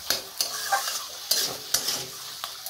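Sugarcane jaggery being stirred into a thick mixture in a pan, giving soft scraping strokes with a light sizzle, several irregular stirs close by with no talking.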